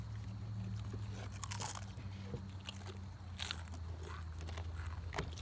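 Crunchy Pringles chips being chewed and bitten, crisp crackling crunches repeating close to the microphone, some louder bursts near the middle, over a low steady hum with faint voices in the background.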